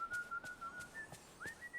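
Goofy whistles a jaunty Disney tune in the video game Dreamlight Valley, a thin bright melody with short phrases and brief gaps, fairly quiet against faint background game sound.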